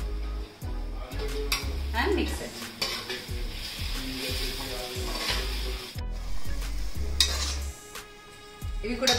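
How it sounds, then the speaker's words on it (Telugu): Spices with ginger garlic paste and coriander powder frying in a pan for coconut milk chicken biryani, a steady close sizzle broken by repeated stirring scrapes and spoon knocks on the pan. "ఇవి కూడా బాగా ఫ్రై అయిపోయాయి."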